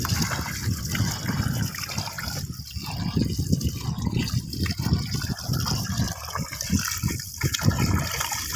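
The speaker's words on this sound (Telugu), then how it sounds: "ఈ విధంగా బాగా శుభ్రంగా 2 సార్లు కడగాలి." Chopped chicken liver pieces are washed by hand in water in a village kitchen, with steady splashing, sloshing and trickling throughout, close and fairly loud.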